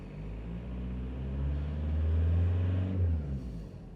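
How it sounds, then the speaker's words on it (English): A VW TDI diesel engine with a suspected MAF sensor fault is revved once from idle, a deep clattering rumble that swells and then settles back down, heard up close. "Give it a bit of rev."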